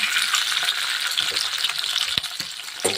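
Green chillies roast in a pan over a low gas flame, giving a continuous soft sizzle with a few sharp pops and clicks near the end.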